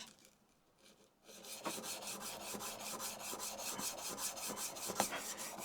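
A plane blade rubbed back and forth on a 400 grit diamond stone lubricated with automotive window cleaner, a steady close rasping scrape in regular strokes after a brief quiet start.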